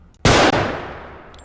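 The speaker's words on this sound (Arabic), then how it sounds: "طب. اوكي انا اضرب طلقة." One loud pistol gunshot in the video game Body Cam cracks suddenly, then rings out in a long fading tail, with a faint electronic blip near the end.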